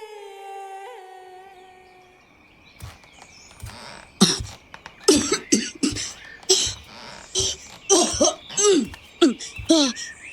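An ailing mother with a worsening cough and asthma coughs repeatedly in harsh, close bursts with throat clearing, after a short stretch of quiet tonal background sound.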